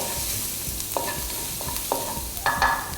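Onion is stir-fried for a tuna spaghetti white sauce, a soft close sizzle under a few scraping strokes of a spatula against the pan, the last one louder, with no talking.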